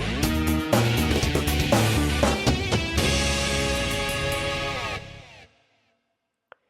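The Figure Fighter intro music from the Rhythm Tengoku video game plays loud and close, with dense rhythmic hits and tones that end abruptly, followed by near silence and one short click.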